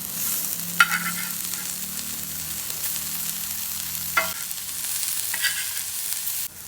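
Bitter gourd slices sizzle softly in a pan, a low steady frying hiss broken by a few sharp scraping clatters as the pieces are turned over with a spatula.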